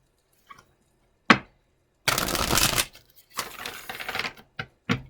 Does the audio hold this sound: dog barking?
no